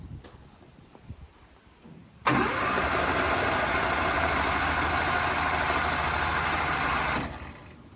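A motorcycle engine with its spark plugs removed is cranked over, a loud, steady whirring spin that starts abruptly after a quiet, rustling lead-in, runs evenly for about five seconds, then cuts off.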